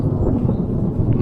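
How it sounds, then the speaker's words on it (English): Deep, rolling thunder from a storm close overhead, a continuous loud low rumble filling the whole moment with no voices. "Oh man, the thunder is coming."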